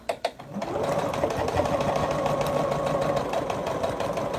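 A sewing machine stitches a 3D pinwheel quilt top, a few close clicks and then a steady, even mechanical whirr running continuously at moderate volume.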